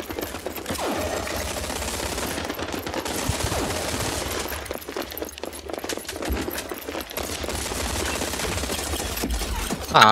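Rapid automatic gunfire in the shooter video game Rogue Company, dense crackling bursts running almost continuously amid game noise, with a player talking over it.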